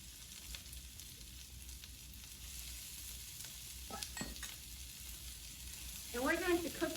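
Onion and garlic sizzle softly in a pan for jollof rice, a faint steady hiss with a few spatula scrapes, and a voice briefly breaks in near the end.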